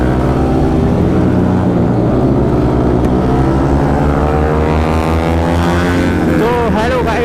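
Yamaha MT-15 motorcycle engine running steadily and loudly throughout a ride, a dense harmonic drone with a brief rising rev near the end.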